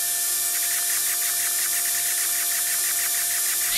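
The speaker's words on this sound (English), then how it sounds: "Laser drill." A laser drill in the Henry Stickman game gives off a steady, loud, high-pitched electronic whine with a faint pulsing flutter, holding level for several seconds and swelling slightly at the end.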